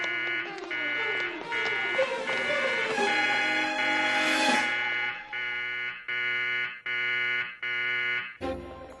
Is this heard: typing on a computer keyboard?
no